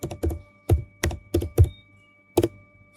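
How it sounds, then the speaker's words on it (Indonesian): Several separate keystrokes on a computer keyboard as a password is entered at a network device's console, close and crisp, in an irregular burst of about eight taps with no talking. "Lalu kita ketik di sini password."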